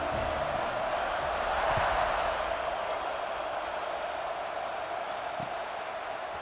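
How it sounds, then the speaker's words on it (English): A College Football 26 stadium crowd buzzes in a constant, dense roar across the whole stretch, a broad wash of many voices that swells slightly early on, with no individual speech standing out. "this crowd is buzzing after that last score"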